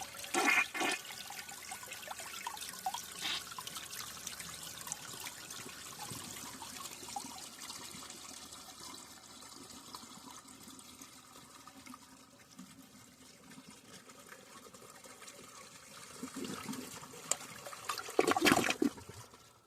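A 1995 Mansfield Alto toilet flushes close up: a rushing swirl of water, then a long trickling refill, ending in a louder gurgling burst near the end.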